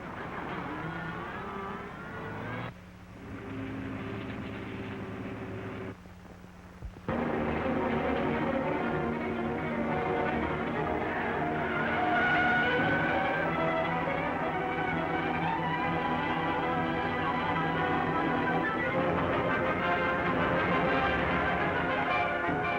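A 1940-era bus engine roars and revs steadily as the bus speeds down a grade with failing brakes, a loud continuous motor drone with shifting pitch and a brief dip partway through.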